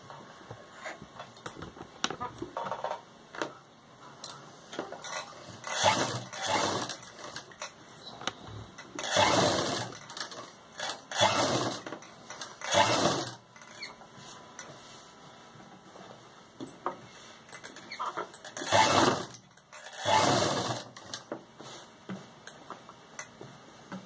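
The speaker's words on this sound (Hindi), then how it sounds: "टॉप की सिलाई मारेंगे जो इसकी शेप है इसके ऊपर ही।" Sewing machine stitching along the neckline of a lehenga choli top, in repeated bursts of rapid mechanical ticking separated by short pauses, fairly close and clear over a faint steady hum.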